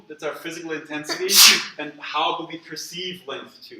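A single loud sneeze bursts out in a lecture hall, sharp and brief, while the lecturer keeps talking before and after it.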